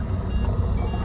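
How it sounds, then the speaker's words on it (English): An electronic motion tracker beeping in the video game Alien vs Predator, a rapid repeating tone over a loud low rumble, with no speech. "they've got one of the things, haven't they? You can hear it beeping."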